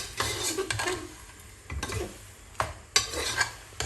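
Onions are stirred and turned in a pan with smoked cartilage, giving several scraping, clattering strokes of a utensil against the pan over a soft sizzle, with sharper knocks near the end.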